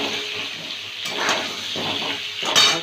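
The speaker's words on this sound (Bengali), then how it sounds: "আলুটা একটু ভেজে নেব।" Potatoes with salt and turmeric fry in a pan, making a wet, hissing sizzle broken by a few clattering bursts as they are moved around. The sound is fairly close and there is no talk.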